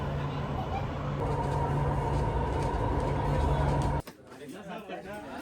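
A Chennai metro train hums steadily with a rumbling drone and a tonal whine, then cuts off abruptly into quieter, murkier ambience near the end.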